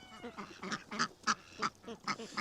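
A goose on a farm gives a run of about eight or nine short, nasal honks in an irregular rhythm, heard close and fairly quiet, with no talk.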